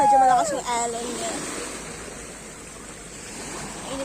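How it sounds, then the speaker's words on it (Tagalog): Strong ocean waves washing onto a shore during a Masbate beach outing, a steady surf wash under a brief burst of speech at the start, then continuing alone. "Medyo malakas yung alon niya."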